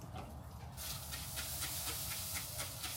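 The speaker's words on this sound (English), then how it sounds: "One last spritz for the" A spray bottle mists a slab of ribs on a smoker, a run of quick soft hissing spritzes repeated several times over a constant background hiss, close by.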